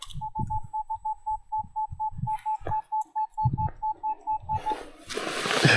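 A Minelab Equinox 900 metal detector beeps in a steady pulsing tone over a shallow target at a Cossack settlement site, with digging thuds and scraping around it.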